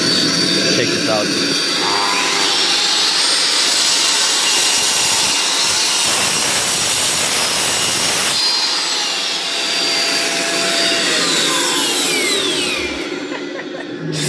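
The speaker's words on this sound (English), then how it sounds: "this saw is a freaking beast" Loud power saw cutting through a workpiece, clamped down for a home-improvement build; a continuous high whine and rasp holds for about fourteen seconds with a brief dip in the middle, close and dominant.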